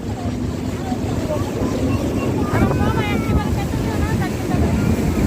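Launch boat pulling away from Mawa launch ghat: a loud, steady engine drone and rushing water with wind buffeting the microphone, while people talk nearby.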